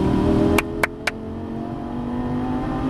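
A Lamborghini Gallardo Superleggera LP570-4 runs at full throttle on a track at Exotics Racing in Fontana, California. The engine drones loud and steady with a slowly rising pitch, and three sharp clicks come early on.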